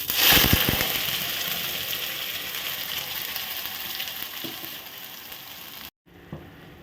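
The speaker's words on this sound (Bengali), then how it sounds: "এদিকে সরষের তেল গরম হয়ে গেছে। তো আমি এর মধ্যে এখন ঢেলে দেব।" Bitter gourd paste poured into hot mustard oil, a broad steady sizzle that starts with a burst of crackling, then stops abruptly near the end before a faint return.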